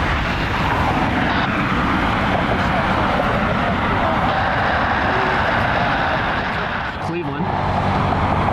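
An aircraft approaches Cleveland Hopkins airport with a loud, steady, broadband roar that fills the whole stretch, briefly dipping near the end before resuming at full strength.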